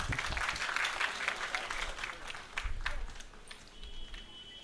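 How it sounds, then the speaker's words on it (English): An audience at a healthcare providers' association event in India claps as a dignitary is called to the dais. The applause is moderately faint, steady, and somewhat distant in the room, tapering off toward the end. "Can I have the round of applause, please?"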